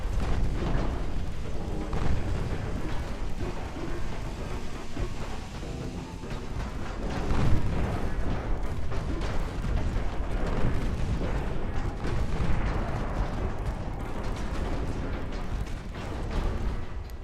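Battleships trade high-explosive naval shellfire in Ultimate Admiral Dreadnoughts, a dense, continuous rumble of booms and distant thuds rolling without pause at moderate level.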